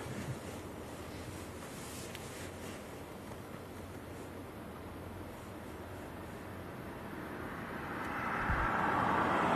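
Strong wind with gusts up to 50 mph at Leeds Bradford Airport, a steady broadband roar buffeting the microphone that swells louder toward the end, with no voices.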